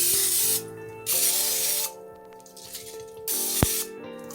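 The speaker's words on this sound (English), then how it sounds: "now I'm going to spray my donut pan with some non-stick cooking spray" Non-stick cooking spray hissing onto a donut pan in two loud, close bursts of about half a second to a second each, with a pause and a small clatter between them.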